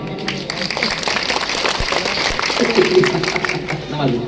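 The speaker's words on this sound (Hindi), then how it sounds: "कुछ कम आई तालियों की आवाज मुझे" Audience applause at a qawwali performance during an urs celebration at a dargah in Lonavala: a steady, dense wash of clapping from a crowd that holds at an even level throughout.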